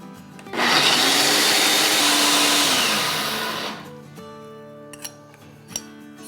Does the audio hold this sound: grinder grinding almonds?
yes